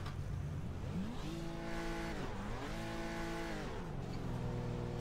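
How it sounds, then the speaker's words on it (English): A Nissan R32's engine revs in the Torque Drift racing game, rising and falling in loud, continuous sweeps that climb, dip and climb again without any voices. "I feel like the R32 is just revving the engine right now."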